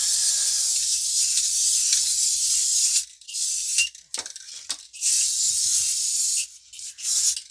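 Steady hissing bursts of an aerosol spray can spraying finish onto carved wood, several long sprays separated by short pauses, close and fairly loud with no talking.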